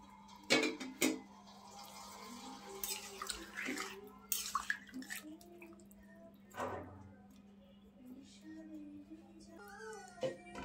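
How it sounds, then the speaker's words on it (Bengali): Water is poured into a cooking pot holding bottle gourd and hilsa fish, a splashing, trickling stream with a few sharp clinks near the start and soft, tonal squeaks toward the end. "তারপর রান্নার জন্য পরিমাণ মতো পানি দিয়ে দিব।"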